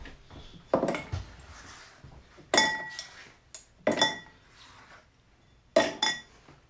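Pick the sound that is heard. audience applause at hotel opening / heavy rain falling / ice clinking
ice clinking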